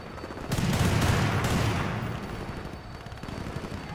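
Sustained gunfire in Battlefield Bad Company 2, a dense fusillade that swells loudly for about a second and a half and then thins into scattered rattling shots.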